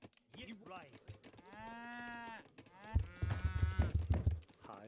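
Sheep and cattle in Age of Empires III, heard as a drawn-out bleat followed by lower mooing and animal calls, fairly close and loud, with no speech over them.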